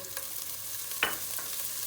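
Soft, steady sizzling of carrots frying in oil, with a quick stir or scrape of a utensil near the middle.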